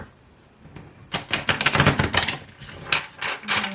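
A deck of tarot cards is shuffled close by, producing a burst of rapid riffling and flicking followed by a few softer card taps, with no talk.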